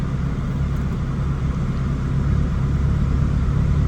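An 850whp Subaru Forester STI running on a Haltech ECU gives off a steady, loud low engine drone near the microphone that holds constant throughout, with no talking.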